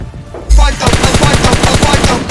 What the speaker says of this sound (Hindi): मैं M4 लेके निकलता हूँ भाई, धड़ाधड़ फायर करते जाता हूँ